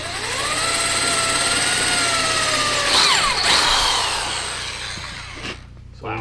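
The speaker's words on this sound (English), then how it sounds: "let's get to drilling these holes, because these holes are going to be the bolt holes to bolt the thing together" A power drill whines close and loud for several seconds while boring bolt holes in the frame of a homemade three-seat go-kart. The motor pitch falls and shifts midway, then the drill winds down and a brief rattle follows.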